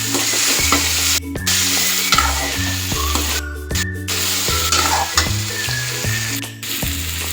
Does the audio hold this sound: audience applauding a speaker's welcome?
no